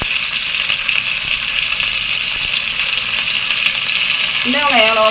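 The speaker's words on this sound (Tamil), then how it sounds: "சின்ன வெங்காயம் எடுத்து வச்சுருக்கோம், அதை வதக்கிடுவோம்ப்பா. கருவேப்பிலையோட சேர்த்து போட்டுக்குவோம்" Small onions sautéing with curry leaves in a pan for a lentil curry, a steady loud sizzle running the whole time with faint stirring and a brief voice near the end.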